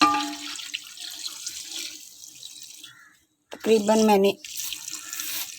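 About a mug of water pours into a cooking pot of mutton, tomatoes and spices, a brief, fairly loud splashing burst after some kitchen noise, with someone speaking Hindi briefly around it.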